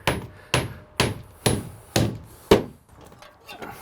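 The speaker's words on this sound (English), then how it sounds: "Just get a few nails in." A hammer drives nails into a plywood shed roof with six sharp, evenly spaced blows about half a second apart, close and loud, then a couple of softer knocks.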